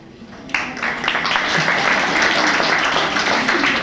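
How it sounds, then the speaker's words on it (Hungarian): After a faint opening, applause bursts in abruptly and swells into full, dense clapping from a crowd, holding steady and fairly loud to the end. "De a taps nekik is jár, persze."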